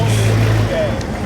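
Ford Thunderbird cars rolling into a Cars and Coffee meet at Griffith Park, Los Angeles, give a steady, fairly loud engine rumble and idle drone, with a brief hiss near the end.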